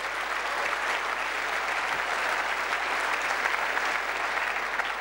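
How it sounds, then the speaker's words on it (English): A steady, dense round of audience applause at a lecture debate, many hands clapping continuously at an even level from start to finish without pause. "Can we have a big round of applause for them"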